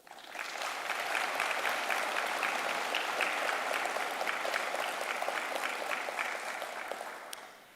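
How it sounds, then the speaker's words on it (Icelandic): A concert-hall audience at a technical college graduation ceremony applauds retiring school staff, with steady, full clapping for nearly eight seconds that fades out at the end. "Við skulum gefa þeim gott klapp og þökkum þeim fyrir gott og farsælt starf í þágu skólans."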